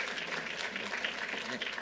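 Audience applause at a gubernatorial bill-signing event for domestic violence survivor legislation, a steady wash of many hands clapping with no break across the short stretch.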